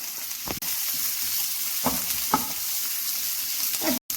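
Chopped onion and garlic sauté in oil with a steady, even sizzle throughout, broken by a few soft stirring scrapes and a brief dropout near the end; no one speaks.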